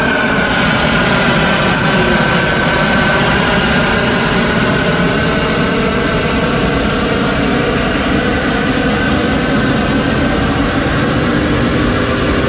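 Loud, steady roar of C-130 aircraft propeller engines, 4,700 horsepower each, running continuously, dense and unbroken, with no voices.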